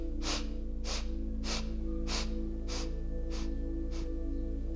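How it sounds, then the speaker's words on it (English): Seven or eight short, sharp nasal sniffs come in an even rhythm, a breathing practice of inhaling in eight quick sniffs, close and clear over a low steady hum. "inhale in 8 sniffs"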